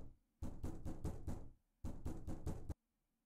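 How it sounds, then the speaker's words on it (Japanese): Two bursts of four loud, evenly spaced knocks on a door in a free horror-style adventure game, each sequence sharp and close with brief silence between and after. "このノック音。"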